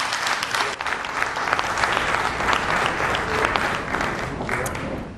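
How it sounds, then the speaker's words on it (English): An audience at a panel event on polling and the 2012 election breaks into sustained applause, a dense, even wash of clapping that holds steady for several seconds without a pause. "Round of applause for..."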